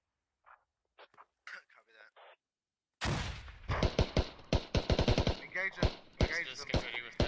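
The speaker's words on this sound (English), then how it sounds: "You can hear the GLs going off." Grenade launchers and other weapons fire in the Squad military video game, with a rapid, loud series of blasts and shots after a few seconds of quiet radio-like voices.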